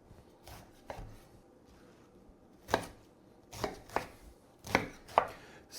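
A knife chopping through half a cabbage on a board while making oven roasted cabbage: a handful of sharp, separate cuts, faint ones early, then five louder thuds in an uneven rhythm, with no talk.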